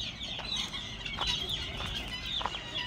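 A single chicken, the last hen left in a backyard coop, clucks in short repeated calls against a steady rustling farmyard background, fairly near.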